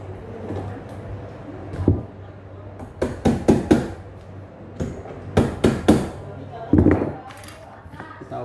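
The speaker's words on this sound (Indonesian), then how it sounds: "Langsung kita bor ya, kita baut." Drill and bolting work on a door handle, heard as a string of sharp knocking and chopping bursts in clustered groups, close and loud, under speech and a low steady hum.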